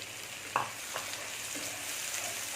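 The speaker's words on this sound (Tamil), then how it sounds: "வெங்காயத்தோடய சேர்த்து இதையும் வதக்கிடுங்க கொஞ்சம் நேரம் வேகட்டும் அது" Mushrooms and onions sautéing in a pan for mushroom masala give off a close, even sizzle, broken by a few sharp scrapes and taps of a stirring spoon.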